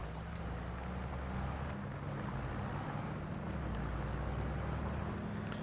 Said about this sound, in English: Man, this thing flies. This tractor really goes.